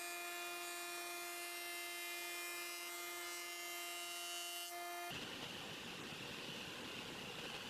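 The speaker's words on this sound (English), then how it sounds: "I'm ripping these into roughly 75mm strips on the table saw" A table saw rips a wood slab into strips, its steady tonal whine holding alone before the blade bites and a loud, broad cutting roar takes over for the last few seconds.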